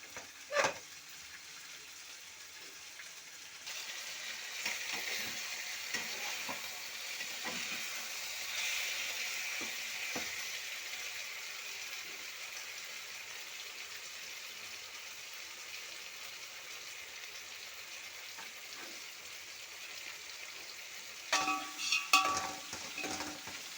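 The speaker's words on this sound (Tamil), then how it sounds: "தக்காளி வதங்குற வரைக்குமே நம்ம வெயிட் பண்ணணும்" Tomatoes sautéing in a pan for chicken biryani, a quiet steady sizzle with occasional spoon scrapes and clinks, louder stirring clatter near the end.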